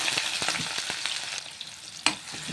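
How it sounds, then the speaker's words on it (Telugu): Chopped onions fry in oil for a drumstick and cashew curry, crackling in a dense, close sizzle broken by repeated spoon scrapes and one sharper knock toward the end. "కట్ చేసుకుని ఉల్లిపాయ అయితే వేస్తున్నాను"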